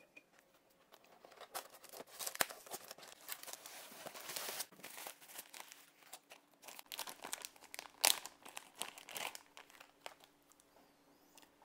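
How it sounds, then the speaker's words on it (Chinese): A parcel holding a string of golden-thread nanmu prayer beads is unwrapped by hand, with soft, irregular crinkling, tearing and rustling of packaging, fairly close and quiet, with no talking. "那现在我们先把它拆开。"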